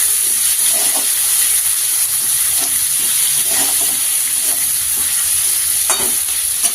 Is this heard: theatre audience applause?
no